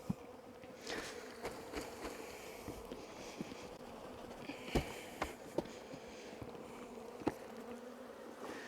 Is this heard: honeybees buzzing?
yes